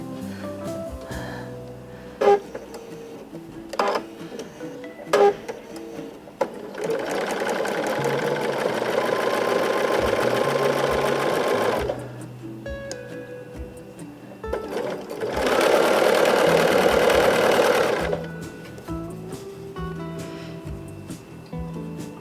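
A sewing machine stitches a sampler quilt block in two sustained runs of rapid, even whirring, separated by quieter handling clicks and pauses.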